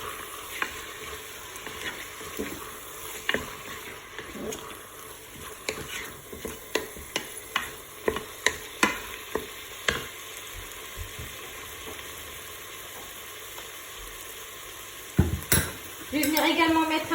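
Chicken and mushroom filling stirred in a Cookeo cooker, sizzling steadily with a run of spoon scrapes and taps against the pot, close up, ending in a louder clatter with no talking.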